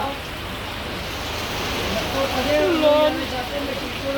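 Heavy typhoon rain and floodwater make a steady wash of noise, with faint voices or other sounds rising briefly near the end.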